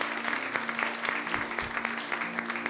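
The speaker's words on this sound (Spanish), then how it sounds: "un aplauso a Arturo" A church congregation claps in a dense, steady round of applause, close and sustained throughout with no pauses.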